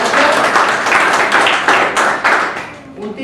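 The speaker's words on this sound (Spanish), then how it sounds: "Muy bien, excelente, un aplauso para ellos" Audience applause at a marketing talk, a close, loud burst of dense clapping that swells and dips in waves before tapering off over about three seconds.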